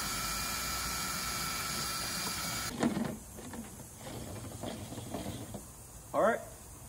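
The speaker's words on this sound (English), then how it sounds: "Use my handy mixer here." A handheld electric mixer stirs a thick, coffee-like fungicide mix for the last spray of the season. Its steady motor whir runs close and loud for under three seconds and then cuts off, followed by scattered handling noises and a voice.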